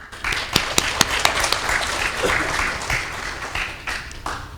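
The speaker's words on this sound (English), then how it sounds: "please give them a big round of applause." Audience applause at a KBS–ABU international media forum welcoming two speakers on stage, a steady wash of clapping from a hall crowd with a few sharper individual claps standing out.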